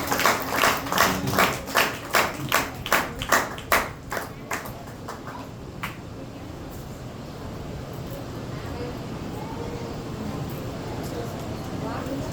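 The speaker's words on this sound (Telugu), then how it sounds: "చప్పట్లు కొడుతూ" People clapping hands at a village gathering, a run of about a dozen rhythmic, evenly spaced claps that stops after a few seconds, leaving a low murmuring room hum.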